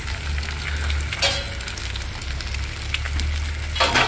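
Eggs fry in a hot carbon steel pan on a gas stove with a steady, close crackling sizzle. Brief louder spatters break through now and then, and no one speaks.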